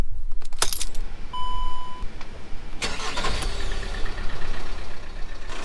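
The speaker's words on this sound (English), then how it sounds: "So now that the engine's on" Keys jangle, then a van engine cranks and starts, settling into a steady idling rumble close by.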